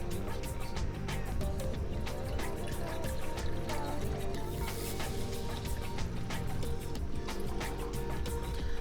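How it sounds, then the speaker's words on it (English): Tea poured into a cup, a continuous close gurgling trickle with dense liquid splashes holding steady throughout, nearby and moderately quiet, with no talking. "let me pour myself some tea here"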